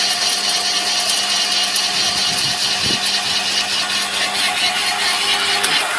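A garden shredder chips branches into wood chips up close, a loud continuous motor roar with grinding and rattling as wood feeds through, steady throughout.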